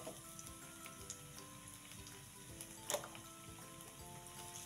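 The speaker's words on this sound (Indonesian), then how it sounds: "Panaskan minyak, tumis bawang putih bawang bombay" Garlic and onion sautéing in hot oil for a tempeh stir-fry, a steady soft sizzle with small crackles and one brief louder pop, close and continuous without talk.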